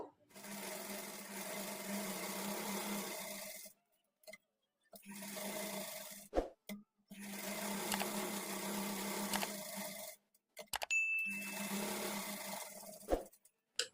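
A sewing machine stitches a shaped blouse belt of lining and main fabric in long steady runs of whirring, stopping briefly between bursts; quiet and close, with no voices.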